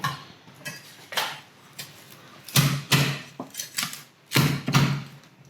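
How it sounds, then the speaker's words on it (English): A cleaver chops crispy roast pork belly on a board in a series of sharp, crunchy thuds, irregular and close, with no voices over them. "好啦，斬燒肉啦，脆卜卜斬燒肉啦"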